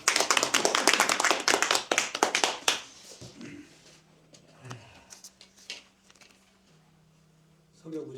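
An audience at a debate lecture claps loudly in welcome for a few seconds; the applause then stops abruptly and a quiet voice takes over.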